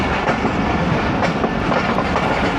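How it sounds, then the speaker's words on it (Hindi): Awam Express passenger train rolling into Dina railway station, a steady loud rumble of wheels and carriages with rhythmic clickety-clack over the rail joints throughout, no voices. "3:18 और दीना रेलवे स्टेशन पहुंच गई है ट्रेन"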